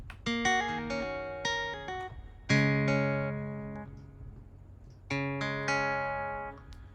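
AAS Strum GS-2 software guitar on a Telecaster-style preset: quick plucked notes, then separate strummed chords that ring and fade, fairly quiet with no talking.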